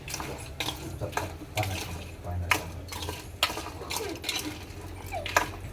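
Masala chickpeas stirred with red chili powder in a pot: a spoon scrapes and clinks against the vessel in irregular, fairly close strokes, with a low steady hum underneath.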